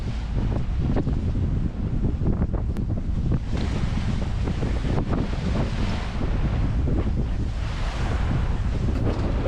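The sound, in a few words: boat crossing ocean waves in the wind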